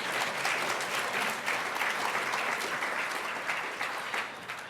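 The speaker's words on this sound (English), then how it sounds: "why don't you guys give yourselves a round of applause for being here" Conference audience at a nonprofit governance symposium applauding themselves, dense continuous clapping at a steady level that tapers slightly near the end.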